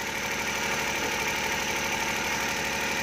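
A car engine idling steadily during ignition coil troubleshooting, a constant even drone with a faint rhythmic knock, close and unbroken throughout.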